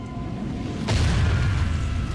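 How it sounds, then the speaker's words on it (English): Mortar shells burst in a video game siege battle, one heavy boom landing close and loud with a broad blast, then low rumbling debris that keeps rolling under the steady din of combat. "Mortar fire is still effective."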